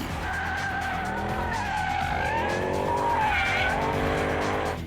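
A Mercedes C63 AMG with a V8 engine on a track, its deep engine note rising and falling under loud, sustained squeals from its Pirelli tires, close and continuous throughout.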